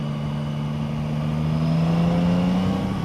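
Yamaha Tracer 9 GT+ motorcycle (2025) with automatic gearbox in D+ mode, riding on the road; a steady close engine drone with a rising pitch shift partway through, consistent with a gear change under way.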